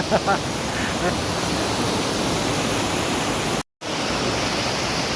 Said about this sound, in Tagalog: Ayan, yan yung anak falls. May falls din siya pero maliit lang.